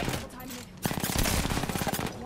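Rapid automatic gunfire in a video game firing at a shield, a dense burst of shots after a short lull, heard alongside game sounds.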